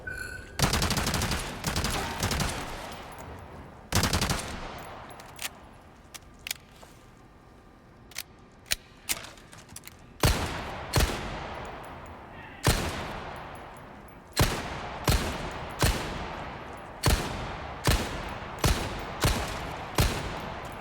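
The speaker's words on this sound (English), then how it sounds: "Should use the SMG" SMG gunfire in Resident Evil 4: sharp bursts of shots, sparse early and then a steady run of regular cracks, loud and close, with little talk.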